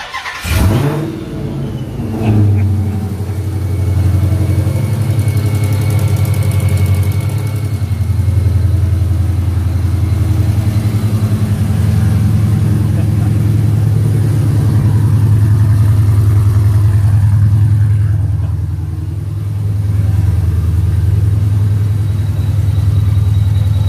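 A car engine cranks briefly and then settles into a steady, loud idle after a change to AMSOIL Racing 15W-50 motor oil and a PI fuel-system cleaner, holding an even low rumble close by with no talk.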